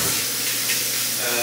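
Tuna steak frying in a hot pan gives a steady, close sizzle and hiss with no break, and faint kitchen sounds sit under it.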